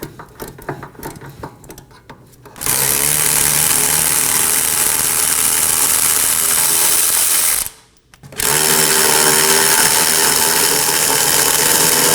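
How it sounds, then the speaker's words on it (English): Power tool loosening the two 19mm caliper bracket bolts on the back of the steering knuckle of a 2015-2023 Nissan Maxima: a loud, steady motor whine in two long bursts separated by a short pause, with quieter clicking before the first. "We're going to remove the bracket bolts, which are two 19mm."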